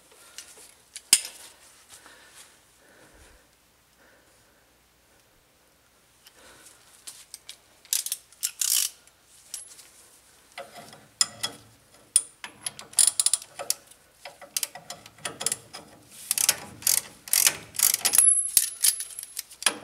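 A ratchet tightens a bolt on a 2005 Ford F250 stabilizer link, with faint scattered clicks at first, then bursts of quick metallic ratcheting and clinks, close and fairly quiet.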